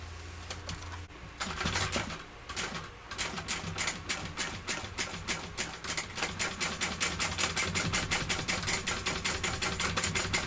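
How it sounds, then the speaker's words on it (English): A sewing machine stitches a handbag back and forth in rapid, steady needle bursts that pause briefly and restart, close and mechanical, with no talking. "I'm just going backwards and forwards a bit just to try and further secure it"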